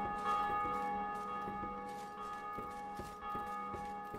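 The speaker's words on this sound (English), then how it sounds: "Okay, ring the bell." A bell rings in the video game Dark Souls 2, with repeated resonant metallic strikes, roughly one every half second, each leaving a sustained ringing tone that stays clear and fairly loud.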